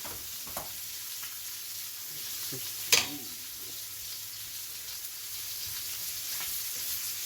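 Lamb loin chops fry in a pan with a quiet, continuous sizzle, broken by a sharp clatter near the middle as they are turned, then settling back to steady low frying.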